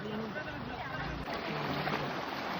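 Water of the large Mahananda river rushes steadily at a crossing, a broad continuous wash filling the scene, with faint sounds of people in the background.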